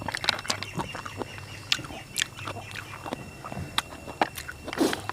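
A duck gives short, irregular quacks and pecking, chewing sounds close by, scattered across a few seconds over faint background noise.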